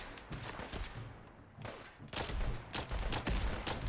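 Plasma assault rifle fire in the video game Fallout 4, a dense stream of loud energy shots and impacts bursting through a busy battle mix, strongest in the second half.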